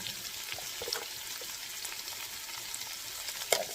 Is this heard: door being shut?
no